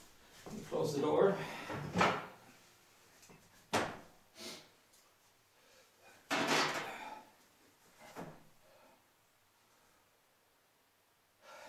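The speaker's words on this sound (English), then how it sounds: "Close the door." A wood stove door swings shut with a short knock near the two-second mark, one of several brief thumps and handling knocks spread across an otherwise quiet, close-up stretch with occasional soft rustling.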